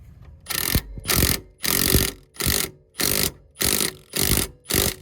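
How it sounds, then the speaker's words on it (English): Wrenches sized 19 and 17 tighten a coilover bolt on a 2017 Infiniti Q50 fitted with BC Racing coilovers, sounding as eight evenly spaced, loud ratcheting bursts, each a dense metallic clicking rasp with short gaps between. "you're gonna use a 19 wrench to hold the bolt while you tighten this side with the 17."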